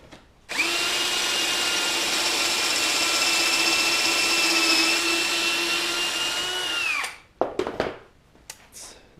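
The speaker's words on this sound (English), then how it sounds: "And just keep drilling." An older power drill drilling into wood whines steadily at high speed for several seconds, loud and close, then winds down and sputters through a few short bursts.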